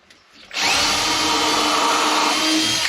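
A power drill starts up after a brief pause and drills into metal on a camper, running steadily at a loud, constant whine, close by, for the rest of the clip.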